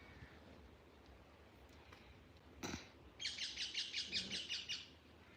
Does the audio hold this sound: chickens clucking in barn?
no